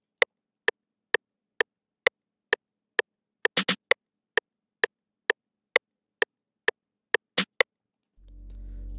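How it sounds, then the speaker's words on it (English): A crisp, dry snare sample hits in a steady, even rhythm, with a quick flam-like double hit partway through, then a low hum at the end. "2 snares. The first one sounds like this."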